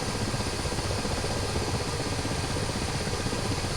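The helicopter engine in a flight simulator game drones as a steady, loud, broadband whine and rumble with no change in pitch or level throughout.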